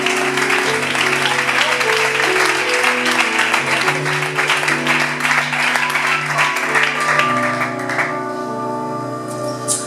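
Church congregation clapping together in a loud, dense, sustained burst of applause with steady tones running underneath; the clapping thins out near the end.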